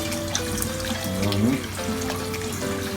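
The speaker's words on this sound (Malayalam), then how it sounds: "ഇതിൻ്റെ ഇറച്ചി നല്ലോണം ഒരു 2-3 വെള്ളത്തിൽ കഴുകി വെക്കുക." Running tap water splashes while raw chicken meat is rinsed for Thalassery chicken dum biriyani, a close, steady gush and trickle in a kitchen sink, with a brief spoken word over the flow.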